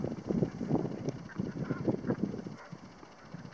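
A flock of ducks or geese, heard from a beach along a rocky coast, keeps up busy, overlapping honking and quacking calls. The birds sound moderately close, and the chatter thins out near the end.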